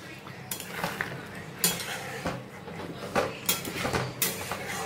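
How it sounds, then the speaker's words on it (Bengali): Butter and milk being beaten together into a cream, with a utensil scraping and clinking against a bowl in irregular close strokes, and no one talking. "একটু বাটার একটু দুধ নিয়ে সেটাকে বিট করে ফ্রেশ ক্রিমের মতো বানিয়ে নেব।"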